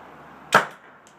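A Tippmann Project Salvo paintball marker fitted with a homemade suppressor fires one sharp, fairly loud shot, a short burst that fades quickly into quiet background.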